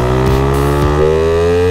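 An engine held in a single gear revs steadily, its droning tone climbing gradually as it pulls, loud and close from inside the vehicle, with no talk.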